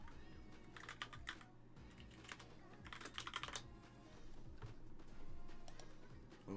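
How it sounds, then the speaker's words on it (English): Typing on a computer keyboard to enter a search: quiet, close key clicks in a few quick clusters separated by short pauses, over a faint steady background hum. "so I'll just type in Okubo art."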